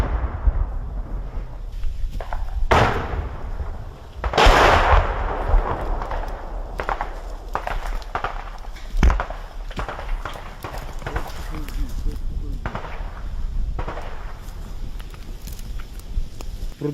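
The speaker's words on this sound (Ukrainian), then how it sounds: "Чуєте, стріляють." Gunfire during a battle in a village in Ukraine crackles as scattered sharp shots and bursts over several seconds. Footsteps and movement sound close by, and voices are heard throughout.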